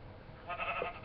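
Pink sheep in a video game giving a single short bleat, brief and fairly close, alone without voices.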